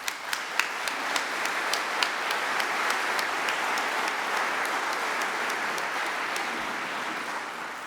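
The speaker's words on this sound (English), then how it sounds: "Let's give them a round of applause." Audience at the Boston Preservation Alliance 2014 awards ceremony applauding sponsors, a sustained wash of many hands clapping, a few sharp claps standing out at first, holding steady and then easing slightly toward the end.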